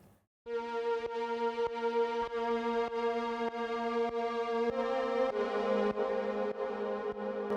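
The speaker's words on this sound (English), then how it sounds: "So the synth pad sounds something like that." A synth pad sustains bright, rich chords while rhythmic step-style ducking chops it into a steady pulsing pattern, the texture shifting to a fuller chord partway through; clear and alone with no voices.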